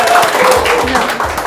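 Brief burst of audience clapping at a scholarship award ceremony, close and lively, with voices cheering over it.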